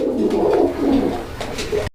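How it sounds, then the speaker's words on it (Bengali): White Beauty fancy pigeons coo in soft, rolling low-pitched phrases, close and steady, with several overlapping coos and no talking. "কবুতরগুলো দেখেন"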